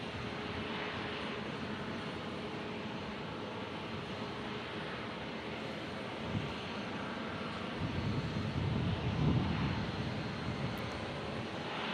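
Airliner taking off at Omaha Eppley Airfield, a steady broad engine roar held throughout and swelling louder toward the end, with no talk over it.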